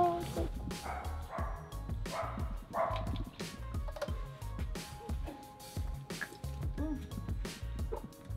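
A small dog barks and yips repeatedly in quick bursts, close and fairly loud, with a person talking at times between the barks.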